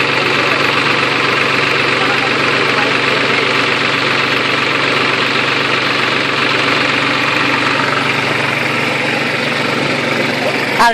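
A Ford TT45 pickup engine runs at a steady idle, loud and close, with a constant rough drone and knocking vibration for the whole stretch. There is no clear shutdown.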